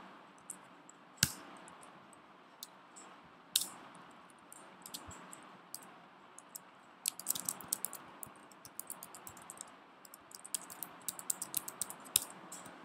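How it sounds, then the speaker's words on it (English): Computer keyboard typing while entering MATLAB code, soft irregular key clicks with a few sharper isolated taps early, then denser bursts of keystrokes, close and fairly quiet. "So let's go ahead and type this in also."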